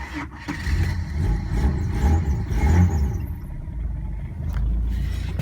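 A carburetted 3.9 litre engine in a 1991 Ford EB Falcon GL cranks and fires, then settles into a loud, rumbling run heard close by with no talking.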